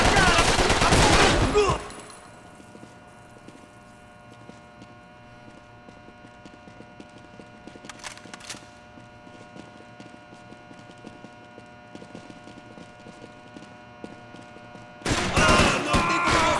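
Gunfire in Max Payne 3 during an NPC war: a loud burst of shots opens, then quiet ambience with faint scattered pops and a brief crack midway, before another heavy volley erupts near the end.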